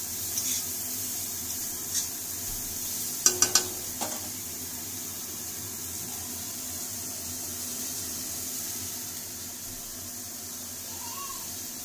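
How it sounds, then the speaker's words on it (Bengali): Soybean chunks fry in a pan with a steady, soft sizzling hiss throughout, broken by a few brief scraping clinks of stirring near the start. "সয়াবিনটা ভাজা প্রায় হয়ে গেছে, আর একটু ভাজা হোক"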